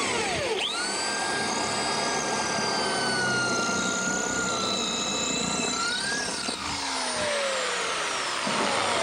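Power drill fitted with an ARTU bit boring through brick, a loud sustained whine with sharp pitch rises and falls as the motor loads and eases, running continuously for several seconds.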